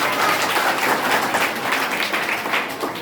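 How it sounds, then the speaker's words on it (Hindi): A classroom of students claps for a classmate, a close, busy patter of many hands applauding steadily throughout with no pause. "चलिए ताली बजाइए इस बच्चे के लिए।"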